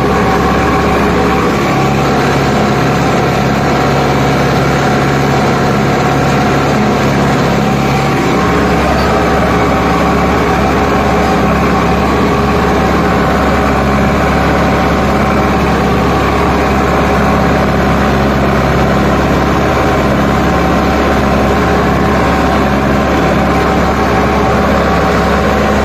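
A Sonalika DI 55 tractor engine runs steadily at about 2100 RPM during a harrow field demo, a loud continuous low diesel drone with a constant hum and no speech.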